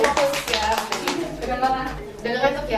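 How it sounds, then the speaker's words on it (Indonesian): A group claps hands together during a classroom-style session in Lombok, giving quick rhythmic taps under a speaking voice. "Oke, tepuk tangan dulu."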